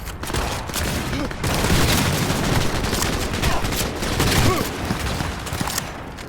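Dense, sustained gunfire in Cyberpunk 2077: rapid overlapping shots and bursts with booming impacts, loud and continuous throughout a chaotic firefight.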